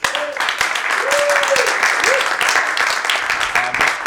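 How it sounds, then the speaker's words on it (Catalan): Audience gives loud, sustained applause at a music education and social transformation talk, a dense wash of clapping filling the room while voices speak over it briefly. "un fort aplaudiment pel Víctor, sisplau."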